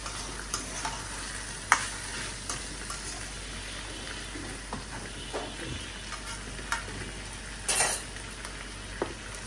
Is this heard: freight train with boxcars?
no